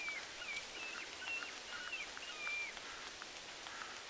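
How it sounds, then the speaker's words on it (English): Steady rain patters continuously in a forest hunting setting, a fairly even hiss of drops with faint bird chirps threaded through it. "the rain is so loud"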